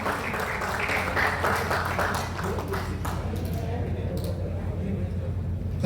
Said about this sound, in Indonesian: Saya beri tepuk tangan yang meriah